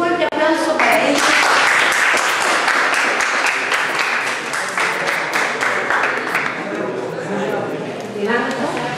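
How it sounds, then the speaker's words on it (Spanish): An audience at an event in Lambayeque gives sustained applause, with dense, loud clapping that fills the room and fades slightly toward the end. A voice speaks over it at times. "Un fuerte aplauso para ellos."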